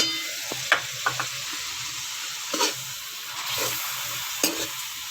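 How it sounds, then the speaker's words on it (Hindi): Chicken macaroni with soy and chili sauce stirred in a hot pan: a steady sizzle with scattered spoon scrapes and taps, close by. "साथ साथ इसको अच्छे से मिक्स करते जाना है।"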